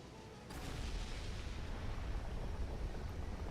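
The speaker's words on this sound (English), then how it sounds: "Looks like that cannon still works." A cannon fires in the video game Ys X: Nordics. A sudden blast gives way to a sustained, faint, rumbling roar that carries on steadily with no voices.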